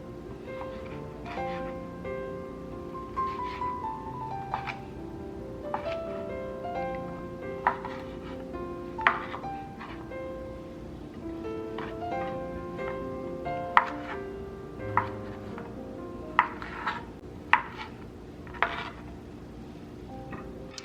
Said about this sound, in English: grab your sausage and we are going to thinly slice them